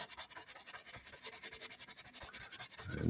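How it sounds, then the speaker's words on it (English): Oil paint being scratched with a brush into the gessoed, textured surface of a canvas, a soft, steady run of quick rasping strokes at a close but quiet level, with a louder bump at the end. "And again, I'm just scratching it in."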